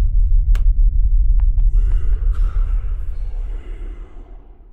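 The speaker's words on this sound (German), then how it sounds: "Jetzt fängt das Gewitter an." Low, heavy rumble of thunder in a horror video game, a thunderstorm starting; a loud sustained roll filling the whole clip, slowly fading toward the end, with a few faint clicks over it.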